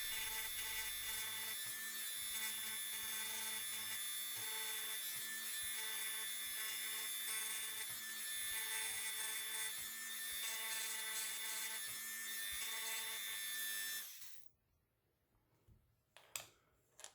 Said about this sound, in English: I'm just going to put a finer head, a finer drill bit in my Dremel